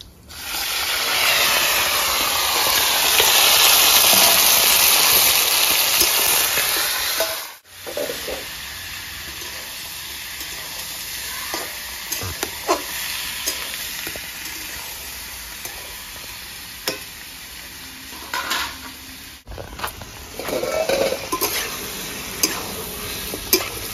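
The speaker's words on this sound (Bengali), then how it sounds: "চিকেনটাকে ভালো করে ভেজে নেবো।" Chicken fries in a pan with whole cumin, black pepper, green cardamom and star anise, opening with a loud, bright sizzling hiss that drops off sharply, then continuing as quieter frying with scattered stirring knocks and spatula scrapes.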